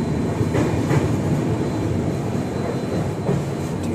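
Train passing Kolaghat railway station, heard from aboard as a loud, steady rumble with rhythmic clickety-clack of wheels on track throughout, no talk.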